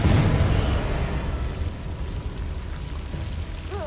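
A Confringo fire spell explodes in Hogwarts Legacy, a loud rumbling burst up front that decays into a crackling, roaring wash of debris and fire.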